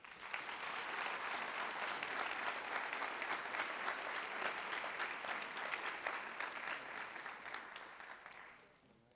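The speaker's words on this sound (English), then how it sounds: "If we can give them one more round of applause" An audience at a high school senior honors night applauds the honored seniors, a sustained, even wash of clapping from a large crowd in a hall that fades out at the end.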